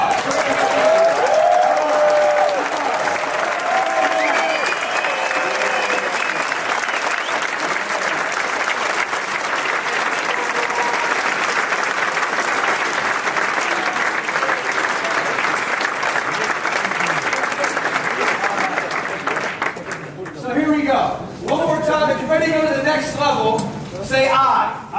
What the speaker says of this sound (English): give Julian Kushner, Chairman 50, a massive, massive round of applause.